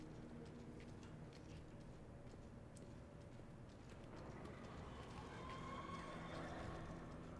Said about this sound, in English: Definitely hear some ghost horses.